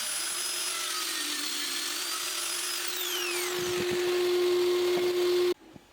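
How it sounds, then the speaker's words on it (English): A power drill bores holes into clamped-down wood, a steady loud whine that shifts pitch partway through, then cuts off abruptly near the end. "So I'll start drilling holes."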